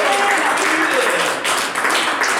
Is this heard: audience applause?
yes